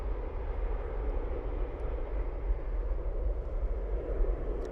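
A Ryanair airliner departs Dublin Airport bound for Toulouse, a steady low engine rumble and roar heard from a distance, continuous and even throughout with no talk.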